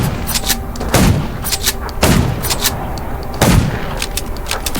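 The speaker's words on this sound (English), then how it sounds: "Gunshots will attract more." Gunfire in the zombie survival game Garena Undawn: three loud, heavy shots spaced about a second and a half apart, each a sharp broadband crack with a booming tail over steady game ambience.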